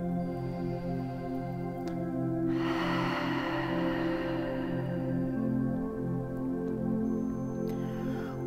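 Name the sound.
deep breath in and full exhale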